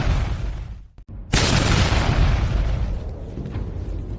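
A loud explosion sound effect from an animated cultivation fantasy game story: after a brief silent gap, a broad booming blast erupts and holds as a sustained roaring rumble that slowly fades.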